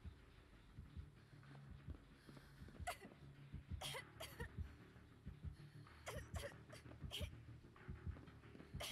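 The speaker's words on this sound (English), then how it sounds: "I wasn't sure if the locker would hide the coughing sound effect" Repeated coughing from a Dead by Daylight survivor, several short bursts spread unevenly across the clip over low game ambience, fairly faint.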